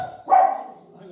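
A single dog bark rings out indoors at a home, close and fairly loud, then fades.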